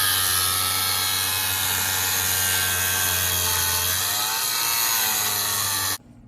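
A power tool cuts metal backing off a car deck lid, giving a loud, continuous high whine that holds steady for several seconds and then stops abruptly.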